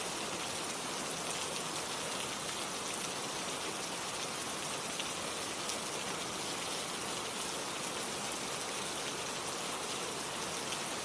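Steady rain falls without pause, a dense, even wash of drops close by and unbroken from start to finish.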